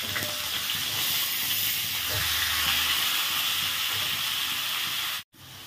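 Deseeded tomato frying in hot oil in a pan, a loud, steady hiss and sizzle that runs unbroken, with a brief sharp drop to near silence just before the end, then the sizzle resumes.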